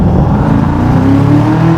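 A 2003 HSV GTS Coupe's V8 engine drones loudly from inside the cabin as the car rolls through the gears, a dense steady growl with a rising tone near the end.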